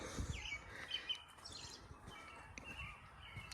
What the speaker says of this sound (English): You can really hear all the birds chirping and everything in here.